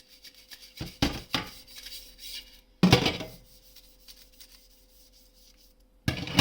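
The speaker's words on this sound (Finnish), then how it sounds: "Otetaan ihan tiskiharja ja pikkasen kanssa taas sitä saippuaa. Ja ihan tiskataan nämä kauttaaltaan" Dishwasher parts scrubbed by hand with a dish brush and soap: several short, close rubbing bursts separated by pauses, with no talking.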